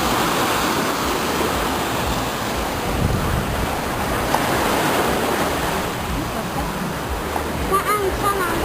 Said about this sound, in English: As you can see, I'm at the sea.